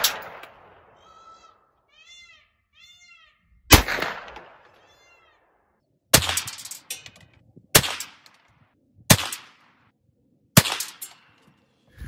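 Ruger PC Charger pistol firing shots at a 50-yard range, several sharp loud reports spaced a second or two apart, preceded by quieter outdoor sounds and faint chirping.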